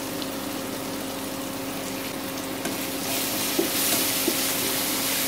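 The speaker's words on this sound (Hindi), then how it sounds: "ये अच्छे से फ्राई होने देंगे।" Bread upma with curry leaves and raisins fries in a pan with a steady, loud sizzling hiss that swells slightly partway through, with a few faint clicks and no voices.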